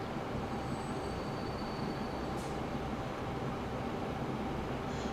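A train rolls along in the Transport Fever 2 video game, giving a steady, even rumble with faint high squeals partway through. It is continuous and moderately quiet, with no voices.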